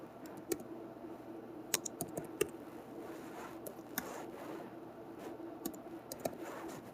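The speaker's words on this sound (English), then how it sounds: "It's kind of hard to type with one hand." Computer keyboard typed with one hand, producing irregular bursts of light key clicks with uneven pauses, close and fairly quiet, with no speech.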